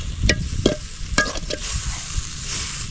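Fish masala being stirred in a frying pan, with a few scraping strokes of the spoon over a steady sizzle, heard close and without talk.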